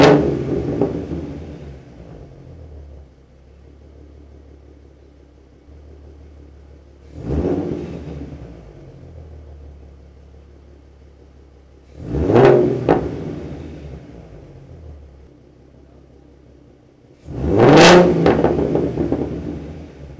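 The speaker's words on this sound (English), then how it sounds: "let's go ahead and do some revs." A 2014 Ford Mustang with the 3.7 V6, BBK shorty headers and ROUSH axle-back exhausts idles with a steady low rumble, then is revved four times, each blip rising sharper and louder, the last the strongest.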